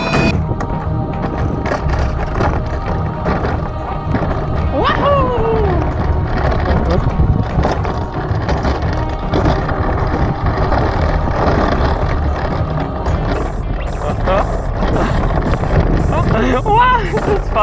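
Toboggan ride down a mountain near Lake Bled, Slovenia: steady rushing rumble and wind noise of fast descent throughout, with a person talking over it.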